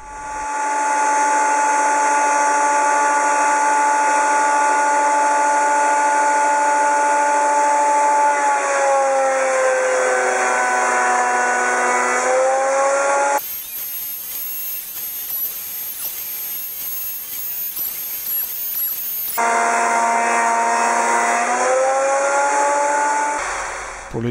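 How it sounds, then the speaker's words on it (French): A combination jointer-planer runs in planer mode, feeding a wooden board for a cradle with a loud, steady high whine and whir that dips as the wood passes. A sharp pitch break in the middle is followed by the motor resuming. "J'ai ensuite passé la machine en mode raboteuse pour obtenir une deuxième face parfaitement parallèle à la première."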